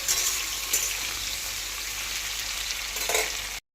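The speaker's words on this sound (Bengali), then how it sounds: "এখন আমি আলু আর পটলটা দুটো একসাথেই ভেজে নিলাম" Potatoes and pointed gourd fry together in mustard oil in a kadai, giving a steady, close, loud sizzle that runs without a break, with a couple of brief brighter crackles and no voices.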